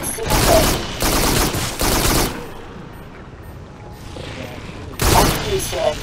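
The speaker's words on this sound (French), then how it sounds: "Appuyez sur la touche indiquée pour tirer avec l'arme secondaire." Secondary weapon fire in the sci-fi shooter Farpoint on PSVR, played with the Aim controller: three loud bursts of gunfire in quick succession, a quieter gap, then a fourth burst, with no talking.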